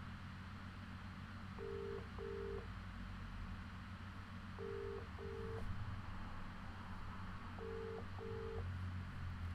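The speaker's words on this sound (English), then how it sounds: "I'm phoning Akeem." Telephone dialing tones sound in three evenly spaced bursts, each a quick pair of steady beeps, over a low background hum with no talking.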